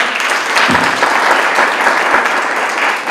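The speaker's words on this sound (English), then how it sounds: "I think that deserves a round of applause" A burst of applause from a group at an awards ceremony, steady clapping that carries on throughout, fairly loud and close, with a faint murmur under it.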